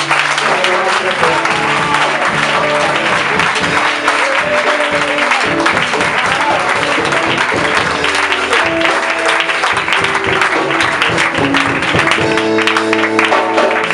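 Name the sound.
congregation applauding to acclaim the Lord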